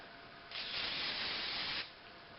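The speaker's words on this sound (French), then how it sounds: "Si je mets du spray dessus" A pump hairspray hisses steadily onto freshly curled hair from a curling iron, one continuous near spray lasting over a second before cutting off, with a quiet room behind it.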